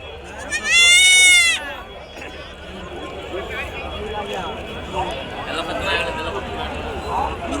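A goat lets out one loud, wavering bleat near the start, followed by a busy crowd of voices and distant animal noise, at the sheep and goat market in Nallapadu, Guntur.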